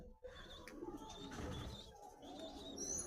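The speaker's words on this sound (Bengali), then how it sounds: "এটা ছেলে পায়রা, এ হচ্ছে মেয়ে পায়রা" Soft, low cooing of High Flying Madras pigeons, a male and female with chicks, rolls on continuously close by, with a few faint chirps mixed in and no talking.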